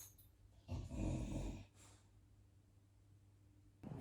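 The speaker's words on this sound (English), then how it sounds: "If it's loud, that's Archie, my dog." A dog breathes heavily nearby, with one loud snoring or snorting exhale followed by fainter breaths in a quiet indoor room.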